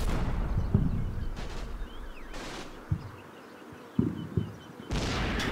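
In the Combat Mission video game, tank gunfire sounds as a few heavy, booming blasts. They are spaced a second or two apart over a low rumbling battlefield ambience, with sharper thuds in between.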